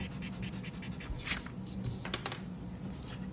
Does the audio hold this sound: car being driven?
no